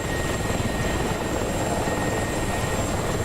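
A Mi-24 helicopter flies in a combat flight-simulator PvP event, giving a steady, loud, continuous rotor and turbine drone with a faint high whine and no pauses.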